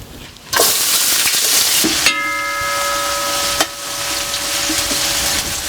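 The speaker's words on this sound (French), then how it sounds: "Le bruit de la marmite, on n'y échappe pas." A marmite pot sizzles loudly on the fire in a Réunion-style kitchen, with spices about to go in. A harsh, continuous hiss runs close and steady throughout, broken by a couple of brief knocks and a faint tonal whine partway through.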